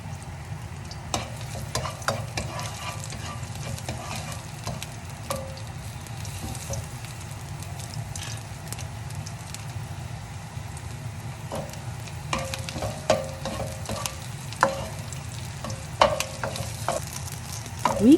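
Garlic and green onion stir-frying in a wok for Korean-style braised beef short ribs, a steady close sizzle with frequent spatula scrapes and clatters running throughout, growing busier toward the end.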